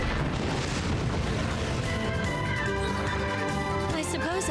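Fireworks explosion attack in the Wild Arms 5 video game, a dense continuous roar of booming blasts and crackling bursts layered over loud game music, with no pauses throughout.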